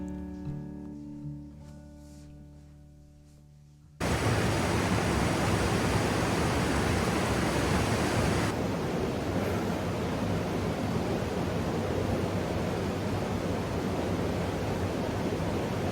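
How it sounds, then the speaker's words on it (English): A creek near Ojai flows in a loud, steady broadband rush of water. It begins abruptly after a few seconds of quieter, tonal sound and continues unbroken, close to the microphone, with no talking. "I am here at a creek near Ojai"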